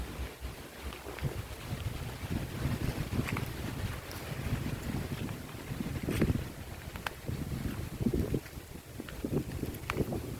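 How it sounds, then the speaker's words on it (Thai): Wind sweeps across an open rice field, a steady rushing buffet with gusts swelling and fading, close and fairly loud throughout. "ลมตลอดเลยค่ะ"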